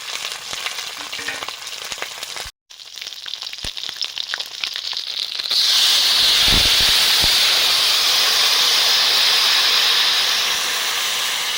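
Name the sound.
fish frying in hot oil with dried chillies and five-spice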